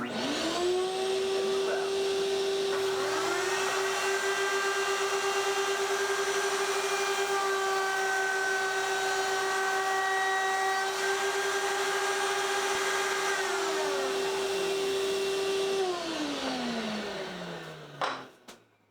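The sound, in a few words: shop vacuum running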